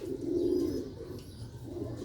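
Sialkoti pigeons coo with low, soft, throaty rolls, one fuller coo early and quieter murmurs continuing close by for about two seconds, no talk.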